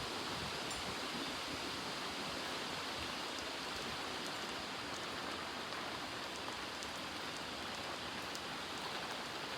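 Heavy rain pours steadily through a dark night thunderstorm that has brought damaging June winds, a dense, constant hiss of drops on the ground and surfaces close by with no voices.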